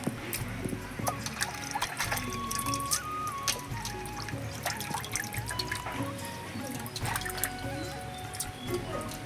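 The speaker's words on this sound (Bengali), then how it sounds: "বন্ধুরা, মাছগুলো আমার সব কাটা হয়ে গেছে। এবার আমি মাছগুলো ধুয়ে নেব।" Cut pieces of rohu fish being washed in water, with soft drips, trickles and splashes mixed with light clinks of a container, fairly quiet and close, no talking.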